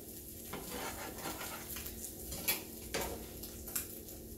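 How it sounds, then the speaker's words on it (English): French toast fries quietly in a pan, a soft steady sizzle broken by a few light clinks and scrapes of a utensil against the pan. "So I got my French toast cooking up pretty good."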